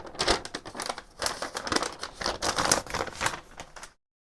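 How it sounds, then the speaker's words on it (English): A plastic bag crinkles and rustles continuously at close range for a few seconds, busy and uneven, then stops abruptly. "And another plastic bag."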